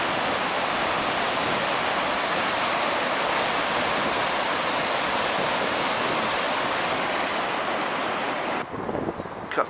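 Heavy rushing water from the Santa Ana River in Orange and Anaheim, California, during a massive flow, a loud steady broadband roar that continues unbroken before cutting off abruptly near the end.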